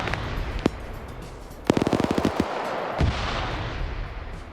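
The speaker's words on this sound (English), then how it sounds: "You got a lot of GLs going off over here, a lot of grenades going as well." Grenade launchers and exploding grenades in a video game PvP match, a quick rattling string of sharp blasts followed by a deeper boom, with scattered single shots around it.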